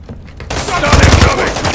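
Dense Call of Duty gunfire as a target is shot down: after a brief quieter moment, a loud sustained fusillade of rapid automatic shots with heavy booming low end, close and continuous with a voice shouting over it.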